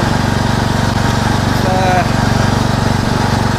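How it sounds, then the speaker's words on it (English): Husqvarna lawn mower running close by while cutting grass, a loud steady pulsing engine drone that holds even throughout, with voices heard over it. "Pleased to say that Paul the Mower Man's Husqvarna has enabled me to do this year's first proper grass cut on the seasonal area."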